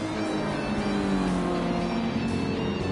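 Race cars including a Ferrari, a Subaru BRZ and a WRX roar past together, a steady loud blend of engine drone and passing revs without any voices.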